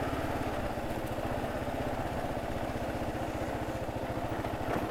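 A Kawasaki KLR motorcycle engine drones while riding, a close, steady, rapid thumping pulse that stays loud and even throughout, with no voices.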